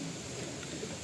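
Several pigeons coo in a cage, a brief, soft, low murmuring burr that stays steady for a moment.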